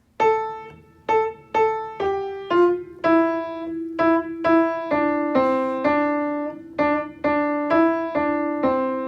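A solo piano right-hand melody from Carol of the Bells, single notes in a steady rhythm, each ringing clearly and decaying before the next, some held longer.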